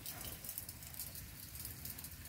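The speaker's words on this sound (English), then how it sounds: "we got us a cloudy day with some rain" Steady rain falling outdoors on a cloudy day, a faint, even hiss of drops with no voices.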